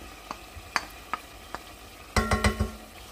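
Tomatoes and harissa fry in a pan under a low sizzle while a utensil scrapes and taps the pan, scattered single knocks followed by a quick cluster of stirring clatters, close and clear.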